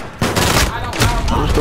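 Gunfire in Call of Duty: Modern Warfare, loud bursts of rapid shots in quick succession, close and punchy, running throughout.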